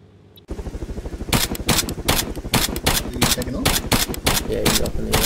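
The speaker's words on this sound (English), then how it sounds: "Yeah, you see where those bullets are coming from?" Rapid automatic gunfire in the video game Arma 3, loud and close, with dense bursts of repeated shots after a brief quiet start and a voice talking underneath.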